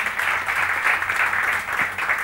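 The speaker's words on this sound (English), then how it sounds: "A big round of applause for Saif" An audience at a felicitation ceremony for Saif Ali Khan, an Asian Games winner, breaks into steady, dense clapping that stays even and fairly close for a couple of seconds, with no clear voices.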